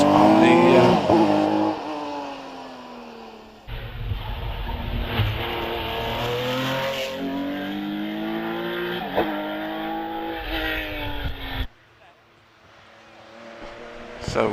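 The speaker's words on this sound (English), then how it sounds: "So this is an earlier Porsche, one of the air-cooled machines." Air-cooled Porsche RSR race car at the Prescott hillclimb, its engine revving hard and changing gear as it climbs and passes close by, loud and rasping, then fading away near the end.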